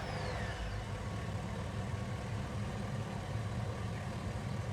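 Truck engine in Farming Simulator 19 on a cotton harvest, running with a steady low rumble and mid-range drone, loud and continuous with no talk.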